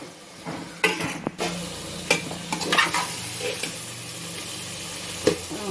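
Ambur dum biryani is stirred in a pot with loud irregular scraping strokes and metal clinks over a low sizzle, close up and without speech.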